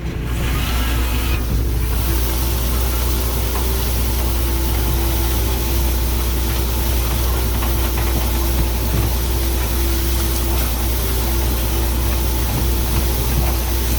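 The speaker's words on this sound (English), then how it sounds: "We'll get you a shot of the rake here going once I get. So we're just driving along." Tractor pulling a hay rake across a hay field, a steady low engine drone with mechanical vibration running continuously and fairly loud, with no voices.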